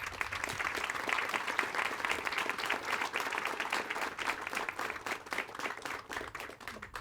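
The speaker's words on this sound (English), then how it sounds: "please give those individuals a huge round of applause" An audience applauds at the groundbreaking ceremony for Murray State's Veterinary Sciences Building, a dense and continuous wash of many hands that holds steady for several seconds before easing slightly, heard from some distance.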